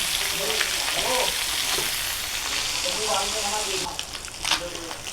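Pieces of bighead fish fry lightly in hot oil, giving a steady, dense sizzle that holds throughout and thins slightly near the end, with a faint voice now and then underneath.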